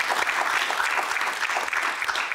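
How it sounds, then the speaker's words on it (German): A studio audience on a German talk show claps steadily, a dense even wash of applause at moderate loudness lasting throughout with no talking on top. "Kleinen Applaus bitte."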